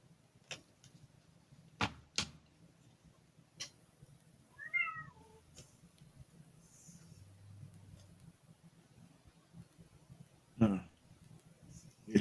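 A cat gives a brief meow indoors, quiet and somewhat distant, amid soft clicks, thumps and scattered room noise, with people talking nearby.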